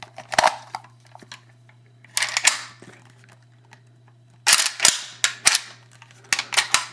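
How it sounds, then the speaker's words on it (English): Metallic clicks and clacks from a Ruger Mini-14 Ranch rifle's action as the bolt is worked and locked back, coming in three close bursts of sharp, rattling mechanical sounds with quiet gaps between. "Trying to like lock back the bolt here."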